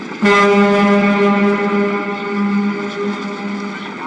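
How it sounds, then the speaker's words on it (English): A deep foghorn blasts suddenly and holds a long, steady, resonant tone that slowly fades while still sounding. "create a new foghorn sound?"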